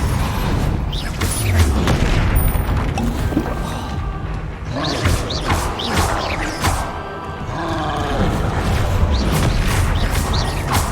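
Spell effects from Hogwarts Legacy, including Defendo, Confringo, Incendio and Depulso, burst out as a steady run of booming blasts, crashes and whooshing impacts, loud and close, with no talking.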